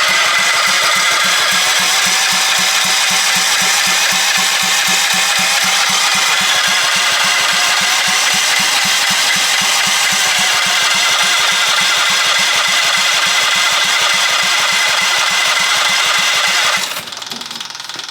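A half-scale NASCAR engine that will not start, its starter cranking over and over in a rapid, even rhythm for a long stretch before cutting off near the end, loud and close.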